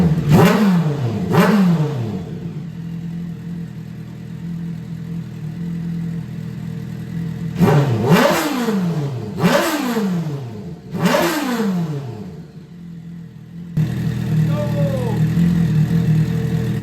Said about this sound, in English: Now let's give it some revs and hear how it sounds.